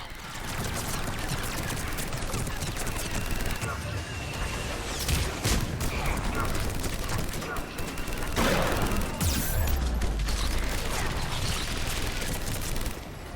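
Missile launches and gunfire in the Mass Effect 3 Legendary Edition video game, a dense, continuous barrage of shots with heavy booms around the middle and later, running steadily throughout the battle.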